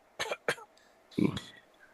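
Several dry coughs close by: two quick ones, a short pause, then a heavier, throatier cough pair.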